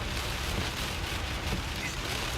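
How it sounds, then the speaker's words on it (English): Heavy rain pouring down during a storm chase southeast of Hattiesburg, a steady, dense wash of drumming and hiss with no breaks, close and fairly loud throughout. "Yeah, there's a lot of rain here."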